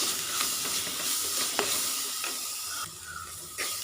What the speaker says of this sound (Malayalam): ഈ സവാള ഒന്ന് വാടി വരട്ടെ, അതുവരെ നമുക്കിങ്ങനെ ഒന്ന് വാട്ടി കൊടുക്കണം, ഇളക്കി കൊടുക്കണം.